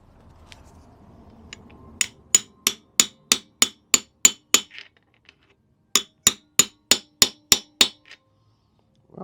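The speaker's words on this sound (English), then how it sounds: "just tap that down with a hammer somewhere" A hammer taps a part on a Suzuki FZ50 motorcycle in two quick runs of sharp metallic strikes, about eight blows each, close and loud, with a pause between the runs.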